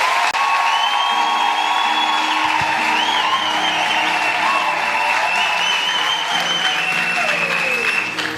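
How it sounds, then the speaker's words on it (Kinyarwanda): A church congregation applauds loudly and continuously, with sustained voices and cheering carried over the clapping throughout. "reka mbasabe dukomere Imana yacu amashyi"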